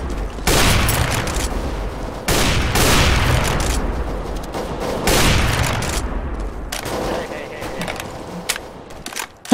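Gunfire in Counter-Strike: Global Offensive comes as loud, close, sustained bursts of automatic shots that keep returning across the stretch, with short breaks and a player's voice underneath.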